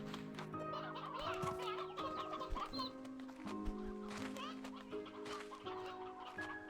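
Chickens clucking in the video game Slime Rancher 2, a dense, continuous chorus of overlapping clucks and squawks at moderate volume without any talking.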